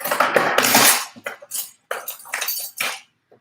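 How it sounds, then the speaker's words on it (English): A metal spoon is pulled from a cluster of cutlery in a home kitchen, giving a quick burst of bright clinks and rattles followed by a few scattered taps, close and loud. "let's grab a spoon"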